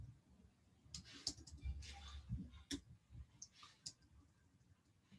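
A computer mouse gives scattered, irregular clicks, faint and close, with quiet stretches and low murmuring in between.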